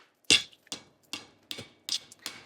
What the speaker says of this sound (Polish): młotek na kowadło